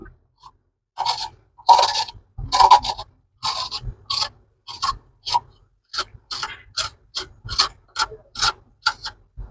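A peeler scraping the dark skin off an ingredient for horse gram chutney, a series of sharp, close rasping strokes, slow and spaced at first, then quicker and more regular.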